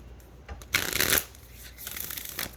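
Oracle cards being shuffled by hand in two quick riffling bursts, close and crisp, with a brief pause between them and no talking.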